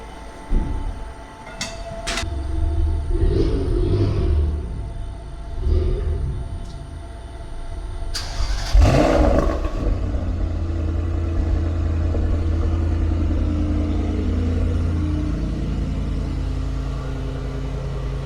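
A BMW E36 engine turns over and catches at about eight seconds, then settles into a steady, rumbling idle with low revving close by.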